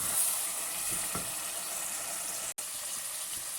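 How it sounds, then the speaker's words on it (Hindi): Mutton with yogurt frying and sizzling in a pan for palak gosht, a steady close hiss with faint stirring scrapes, continuous and unbroken apart from one very brief dropout. "अब हम इसको अच्छे तरीके से दोबारा भूनेंगे"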